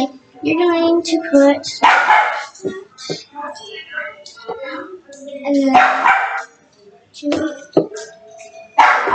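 A dog barks in short bursts close by, interrupting and overlapping a person talking.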